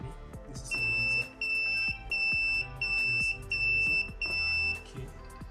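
A laser and LDR alarm system's buzzer sounds in five sharp, high-pitched beeps of about half a second each, evenly spaced and loud against a quiet room.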